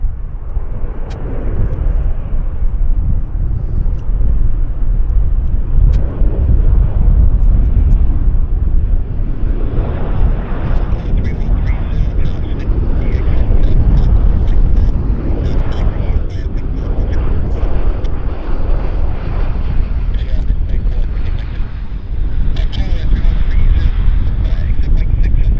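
An airliner landing at Vancouver Airport roars in a loud, broad, sustained rumble with wind buffeting the microphone, as a person talks over it.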